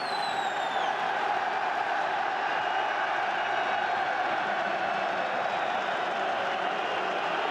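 Sustained stadium applause and crowd noise at an FA Cup third round replay football match between Newcastle United and Spurs, a steady dense roar throughout, fairly loud and unbroken, with no voices standing out.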